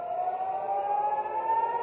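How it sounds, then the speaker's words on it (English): Air raid siren sounding in Tel Aviv, a loud steady wailing tone held throughout with a slowly rising pitch, no talk over it. "the sirens are going off here in Tel Aviv"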